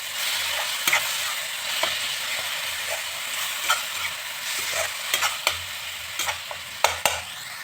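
Masala spices fry in oil in a kadhai for a mushroom, pea and cauliflower sabzi, giving a steady close sizzle broken by repeated scraping strokes and knocks of a spoon against the pan.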